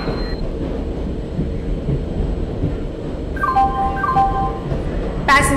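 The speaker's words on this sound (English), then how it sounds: "Passengers, your kind attention please. Train number 12655, passenger express is arriving at platform number" An Indian Train Simulator game plays the rumbling approach of a passenger express train arriving at a platform, with a steady low drone and faint chime-like tones joining toward the end.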